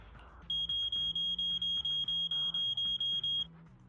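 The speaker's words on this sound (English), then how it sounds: "That's a warning siren." A warning siren alarm in the video game Zenless Zone Zero sounds as a rapid series of about fifteen loud, shrill, evenly spaced electronic beeps, close and unbroken for about three seconds, like a household smoke alarm.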